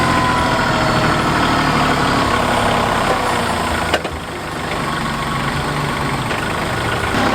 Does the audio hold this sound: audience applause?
no